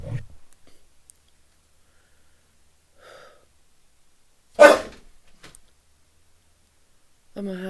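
Indoors, a dog shuffles about quietly, then gives one sharp, loud sneeze near the middle, with faint clicks and snuffles around it and a brief voice at the end.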